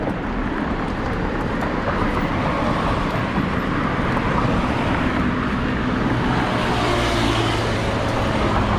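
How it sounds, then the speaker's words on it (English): Dense street traffic in Thailand makes a continuous, loud, even roar of passing vehicles with no clear breaks. "All this traffic."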